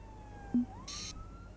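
A fire brigade vehicle siren from the City Eye video game gives a faint, thin wail that dips and rises again. A brief soft knock and a short bright chime-like burst sound alongside it.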